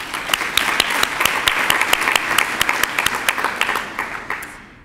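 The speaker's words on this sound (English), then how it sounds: "a round of applause for Tom" An audience at a 2012 awards evening applauds steadily, with distinct sharp claps standing out from the steady wash of hands before it fades out.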